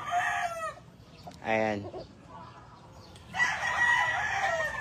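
A Kelso gamefowl rooster on a farm crows once clearly, a short rising call in the middle, with clucking and farm noise around it and someone speaking briefly.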